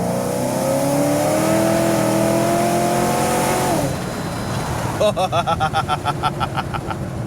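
A supercharged 2007 Shelby GT500 pulls hard through first and second gear at partial throttle. The engine is loud and close, its note climbing steadily, then a brief lull at the shift before a rougher pulsing roar resumes.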